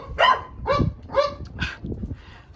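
Dogs bark eagerly at kittens they cannot reach, five or six sharp close barks in a quick uneven rhythm, with whimpering yips between them.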